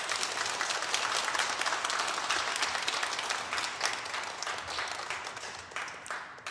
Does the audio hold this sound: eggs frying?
no